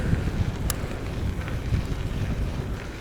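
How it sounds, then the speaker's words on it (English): Strong wind buffets the microphone on a winter bike commute in Swedish Lapland, a steady low roar with gusty swells running through the whole stretch, loud and close, with no voices. "Ooh, it's getting really windy."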